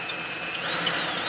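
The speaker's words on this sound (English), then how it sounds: "start to drill" Step drill bit spinning into a pilot hole, a steady whining drill tone that rises slightly in pitch partway through as it bites, short and close.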